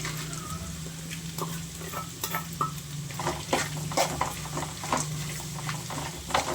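Okra fried with peanuts and garlic chili powder being stirred in a pan, with steady scraping and clinking strokes over a continuous soft sizzle and a low hum, close and moderately loud.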